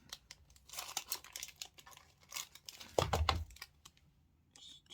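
Scissors snipping a small square from a shiny foil chocolate-bar wrapper, with brief crinkling and a sharper rustle near the end, close and quiet.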